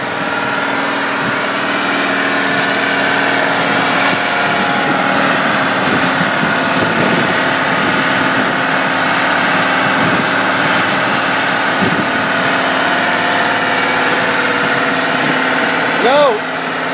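A runaway Peterbilt truck engine running on at a high, steady idle beside a roadside, loud and close, with faint voices talking over it and a slight wavering in pitch.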